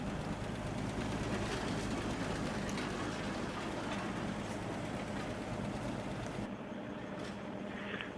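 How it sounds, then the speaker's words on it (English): A small railroad motor car runs steadily downgrade with a constant engine drone and rattling rumble, easing slightly near the end. "This motor car is heading downgrade to the planer mill."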